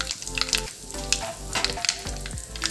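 Cumin seeds and a pinch of asafoetida crackle and sizzle steadily in hot oil, close and fairly loud, with scattered pops and a few stirring scrapes and no talking over it.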